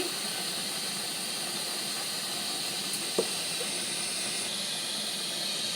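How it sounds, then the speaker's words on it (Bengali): Oil heats in a hot wok with a soft, steady hiss and faint simmering noise, constant throughout with one small tap near the middle and no voices. "কড়াইটা গরম হয়ে গেছে বন্ধুরা তেল দিচ্ছি"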